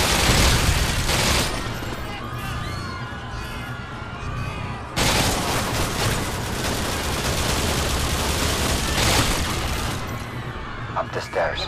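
Continuous loud gunfire and explosions fill the Modern Warfare 2 game battle, with dense overlapping shots and booms throughout and a brief lull midway before the fire resumes.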